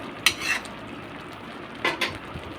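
Tomato chutney being stirred in a pan, with a couple of brief metallic scrapes and clinks of a spoon against the pan close by and a low background hiss.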